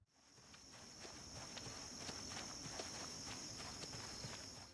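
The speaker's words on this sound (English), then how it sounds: "now you can actually hear cows when they walk" Cows walk in Project Zomboid, their hooves making soft, steady clip-clop footsteps over a constant high insect-like hum, fairly quiet and with no one talking.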